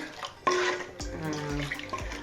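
Dissolved tamarind water is poured into a pot of Sankara fish curry, giving a short run of liquid splashing and trickling with a few clinks, fairly close and moderately quiet, with no speech.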